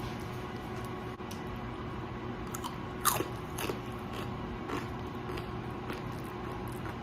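A crunchy homemade tortilla chip gives one sharp, close bite near the middle of the clip, followed by a few softer crunches of chewing. A quiet room hum sits underneath and nobody talks.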